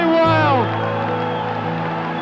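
A football crowd roars loudly just after a goal, a dense sustained swell of cheering with a few rising whistles or whoops at the start, staying steady throughout.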